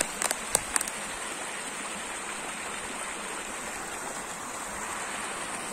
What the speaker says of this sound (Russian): Вода прямо бурлит и шумит под нами.